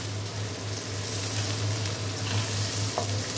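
Onion sizzles and fries steadily in a hot pan alongside pre-boiled tender meat, a continuous close crackling hiss with no pauses.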